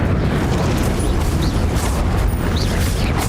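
A fire spell cast in Hogwarts Legacy bursts out as a continuous loud roaring whoosh with a deep rumbling low end, sustained at steady intensity throughout without pause.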